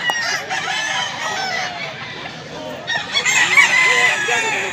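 Roosters among quality fighting chickens at a poultry market in Mantalungon, Cebu, crow loudly and close, with repeated calls overlapping and some background talk.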